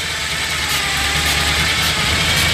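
Running 1967 Chevrolet C10 engine fitted with a gear drive, a loud steady idle with a constant whirring, ratcheting mechanical whine layered over a low rumble, close and unbroken with no talk.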